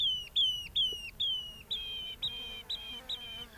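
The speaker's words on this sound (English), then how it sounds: "noisy, pugnacious birds." Fulvous babblers call in a date palm oasis, a close run of repeated high, piping whistled notes in quick, regular succession, clear over a quiet background.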